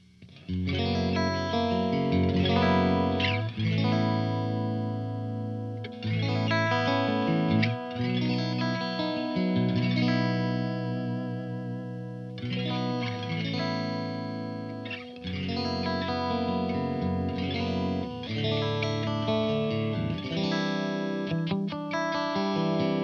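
A clean electric guitar plays chords and melodic lines through a Mesa Mark V 25 tube amp, full and steady, with a warm amplified tone and no effects.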